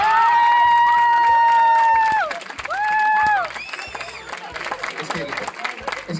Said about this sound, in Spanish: Es que los aplausos molan